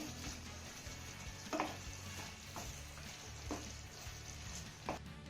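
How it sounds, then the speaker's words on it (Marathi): A wheat-dough breakfast dish made from leftover dough is stirred up from the bottom of a pan, a steady low sizzle broken by several sharp spoon scrapes spaced a second or so apart, close and alone. "हा नाश्ता आपल्याला एकदा तळापासून चांगला हलवून घ्यायचा आहे"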